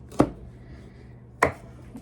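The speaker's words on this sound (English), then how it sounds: "we need to get our squash cut up and get it on our pan" Knife chopping through squash on a board, two sharp distinct cuts about a second apart, close and clear with quiet room tone between.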